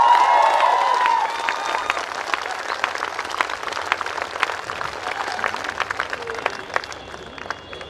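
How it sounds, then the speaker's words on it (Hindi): Audience applause with some cheering fills a hall at a corporate event, steady dense clapping that carries on throughout, with a voice briefly audible at the start. "एक बार दिल से अब्दुल जी के लिए ताली बजा दीजिए।"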